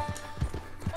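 Horse hooves clip-clop in Red Dead Redemption 2 in a quick uneven rhythm, three or four dull thuds in a second, close by, with faint voices underneath.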